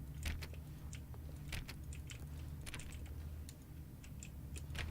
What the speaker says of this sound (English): Is that keyboard noises? Like he's typing on the keyboard?